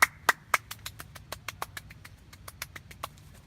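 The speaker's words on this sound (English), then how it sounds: "Round of applause, everybody." Scattered, uneven hand claps ring out sharply at a rainy covered bridge gathering, about twenty quick slaps in a few seconds from what sounds like only a handful of people, close by and alone over a low background rumble.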